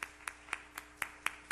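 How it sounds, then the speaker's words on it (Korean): Congregation at a youth church service clapping to welcome newcomers: a steady, evenly spaced run of single handclaps, about four per second, fairly faint with no voices. "우리 자리에서 일어나시면 박수로 환영하고 축복하겠습니다."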